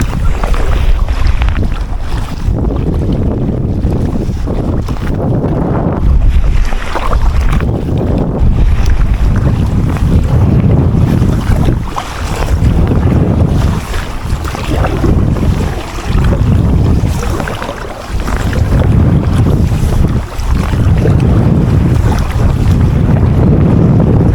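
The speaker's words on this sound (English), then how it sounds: "The wind's trying to cock me round." Strong gusts of wind roar and buffet the microphone continuously while kayaking across an open lake, a loud, unbroken rush with surging peaks and faint water movement beneath.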